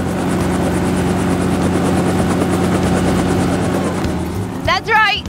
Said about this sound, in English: That's right, it's a helicopter. Noisy, isn't it?